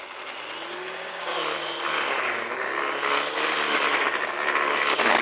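A Ryobi 18V ONE+ HP brushless 204mm lawn edger cuts along an edge, its motor whining steadily and rising in pitch and loudness as the blade bites in, close and alone.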